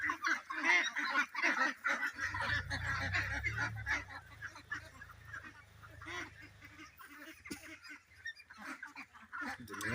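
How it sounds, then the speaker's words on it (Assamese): Local ducks on a duck farm, a flock of about a hundred, honk and quack in a steady close chorus, with a low rumbling noise underneath for part of the time. "ইয়াত মোৰ লোকেল হাঁহ আছে এতিয়া 100 মান আছে"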